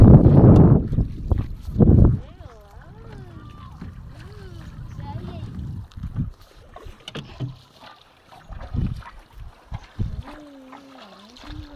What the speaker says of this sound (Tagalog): Ito yung bangka na sinakyan.